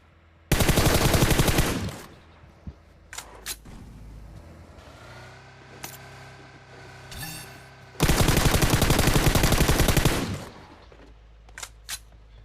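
Loud bursts of rapid automatic M416 rifle gunfire in PUBG Mobile during a drive-by, with two long sustained volleys separated by quieter vehicle and game noise and a few isolated shots near the end.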